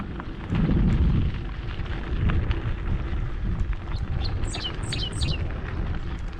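Small birds chirp in short bursts over a loud rumbling background, the high tweets growing clearer toward the end.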